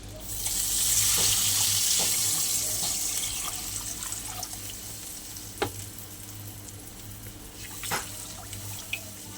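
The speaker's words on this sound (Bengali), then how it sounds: "এবার আমি জল দিয়ে দেবো।" Water is poured into a pan of tilapia fish curry. A loud rushing splash opens and then fades into a soft simmering hiss, broken by a few sharp clinks.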